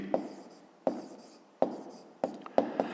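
Handwriting an answer to a Grade 5 maths exercise, heard as quiet, close pen strokes in short scratchy bursts with distinct taps, with no talking.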